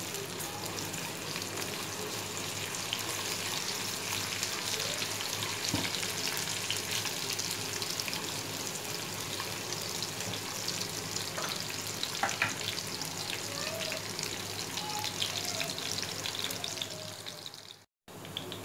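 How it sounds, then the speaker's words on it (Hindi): Chopped onions fry in oil in a pan, cooking toward light golden for a dhaba-style egg ghotala, with a steady dense sizzle throughout, a few soft clinks of stirring, and a brief dropout near the end. "अब मैं इसमें अनियन शामिल कर रही हूँ। अनियन को मुझे लाइट सा गोल्डन करना है बस।"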